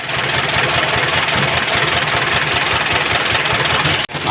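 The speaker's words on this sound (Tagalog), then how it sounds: "makina na sobrang balyado yan" A badly misfiring diesel truck engine idles roughly and loudly up close, its uneven, lumpy knocking rhythm steady throughout until a brief click at the end.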